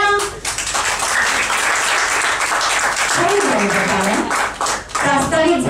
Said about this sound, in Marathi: अहो तुमच्या टाळ्या